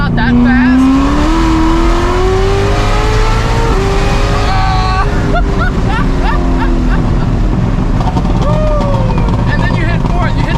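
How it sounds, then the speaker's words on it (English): A Dodge Viper ACR engine revving hard through the gears, loud and close with rising pitch sweeps and shift drops, a voice speaking briefly over it. "And then you hit fourth, you hit the top of the rev range."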